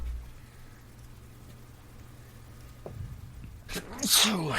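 A single sharp sneeze bursts out near the end after a quiet stretch of low room noise, close and loud against the background.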